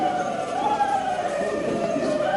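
Inmates inside a jail module voice a wailing siren together, a steady chorus of imitated siren tones with no break.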